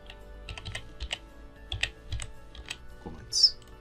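Quick bursts of keystrokes on a computer keyboard, irregular light clicks in short clusters, close and fairly quiet, with no talk.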